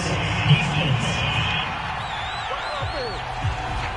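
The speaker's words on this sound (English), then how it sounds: "Well, the crowd doesn't like that." A video game football stadium crowd boos and roars in disapproval after a penalty flag on third down, a steady wash of crowd noise with a commentator talking over it.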